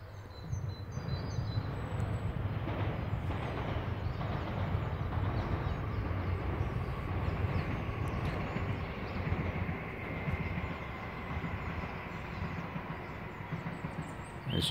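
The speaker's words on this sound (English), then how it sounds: "As you can hear, the trains are still running" Trains pass at a distance during an outdoor walk in the woods, giving a steady rumble with faint rail clatter that lasts throughout, with birds faintly audible.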